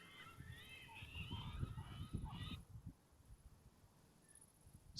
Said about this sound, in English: Scaring some birds away again.